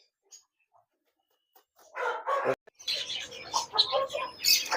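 An Aseel rooster crows nearby after a few faint scattered chirps, its call loud and ragged, with other bird sounds close by.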